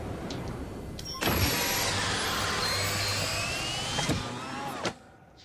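A spaceship's landing gear deploys in a video game, a sustained mechanical whirring hum that starts abruptly, holds steady for several seconds, then ends with a couple of clunks.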